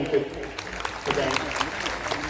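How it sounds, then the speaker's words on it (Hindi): Applause from an audience at a tribal cultural unity gathering in Nepanagar, Madhya Pradesh, rising in a fairly brief burst of scattered clapping, a moderate level and somewhat distant, with voices mixed in. "उनके लिए हम जोरदार तालियां"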